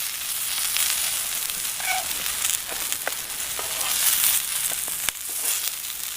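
Steak sizzles over a campfire at a hammock camping site, a continuous bright hiss and crackle with a few sharper pops and small handling clicks, close and steady with no talking.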